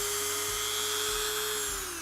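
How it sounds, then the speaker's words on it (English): A Dremel rotary tool whines at a steady high pitch while sanding a dog's nails, loud and close, with small dips as the spinning bit touches the nail. "get the dog comfortable with the sound of the Dremel"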